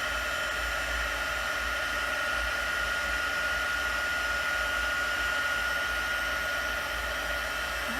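A heat tool blows a steady, even whoosh of hot air to melt embossing powder, a constant near hum with no talking.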